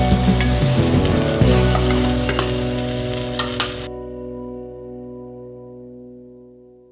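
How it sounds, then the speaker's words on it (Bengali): Already-fried hilsa fish goes into a pan with kochu greens and hilsa head, setting off loud, steady sizzling with a few stirring knocks before the sound drops away to a quiet hum, no talking. "এবার আমি ভেজে রাখা মাছগুলো দিয়ে দেবো"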